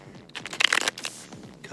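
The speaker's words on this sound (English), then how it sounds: "So let's do some cards here. I'll shuffle on my leg." Tarot cards being shuffled against a leg give a brief run of soft riffling and flicking, close and quiet, with no talk over it.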